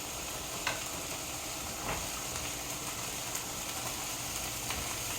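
Green peppers sizzle steadily in a pan with a constant close hiss, broken by a few faint scrapes and clicks of stirring.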